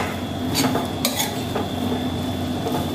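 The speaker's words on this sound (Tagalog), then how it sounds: "Haluin ko lang saglit." Utensil stirring food in a pot in a small kitchen, with soft scraping and a few sharp clinks of metal against the pot over a steady background hum; no talking.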